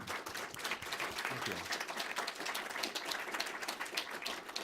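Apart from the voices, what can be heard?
audience applause for the speakers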